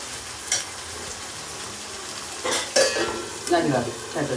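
Brinjal curry with bommidalu sizzles gently in a pan beside ragi sangati, with a steady frying hiss and several sharp scraping strokes of a spoon stirring against the metal.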